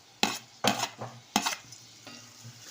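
Spices, turmeric, garam masala, chopped coriander and tomato being stirred and sautéed in oil in a pan, with three sharp spatula scrapes against the pan over a soft steady sizzle, close and clear, no voices.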